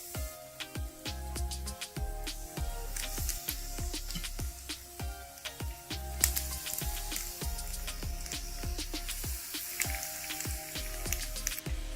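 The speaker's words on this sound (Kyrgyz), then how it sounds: "Сосисканы айландырып бышырдык." Sausages wrapped in dough fry in hot oil with a steady crackle of popping, spitting bubbles and sharp sizzling ticks that repeat at an irregular rhythm, close up.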